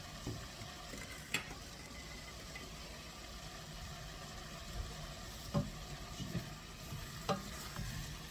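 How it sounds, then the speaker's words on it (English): Vegetables for a turkey casserole sautéing in butter as a spoon stirs them, a low steady sizzle broken by a few distinct scraping clicks against the pan, with a faint hum underneath. "if you don't stir these vegetables around, you'll notice the bottom ones are getting sauteed"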